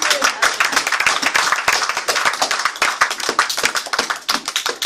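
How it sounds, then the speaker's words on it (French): A church congregation claps loudly in a fast, rhythmic, sharp pattern, the close, crisp hand strikes continuing without pause throughout. "Applaudissez très fort le Seigneur de gloire"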